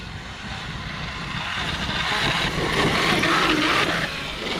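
Dynamite 1200KV brushless motor driving a Kyosho KR8S RC car with a worn pinion, a steady high whine that swells slightly mid-run and stays continuous throughout, fairly loud and close with no talking.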